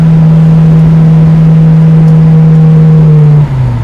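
LS engine in a 1974 AMC Javelin hot rod idling as it warms up, a loud, steady low drone close by that dips slightly in pitch right at the end.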